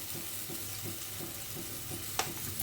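Turmeric, coriander-cumin and chilli powder sizzle in hot oil with a steady crackle, punctuated by a regular rhythm of spatula stirring strokes and one sharp clink near the end, no talking.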